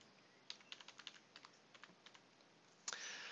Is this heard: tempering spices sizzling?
no